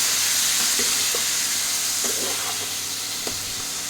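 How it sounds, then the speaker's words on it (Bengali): Water splashed into a hot pan for a potato and taro curry with hilsa fish head sizzles, a steady close hiss with faint scraping taps and no talking. "এটাতে অল্প একটু জল দেবো, সামান্য, দিয়ে এতে দিয়ে দেবো।"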